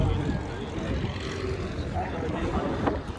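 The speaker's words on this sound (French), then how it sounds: "Ah, c'est un avion d'acrobatie." An aerobatic airplane at the Tallard air show produces a continuous broad engine drone, a mix of propeller and motor noise that stays fairly steady throughout with background crowd ambience.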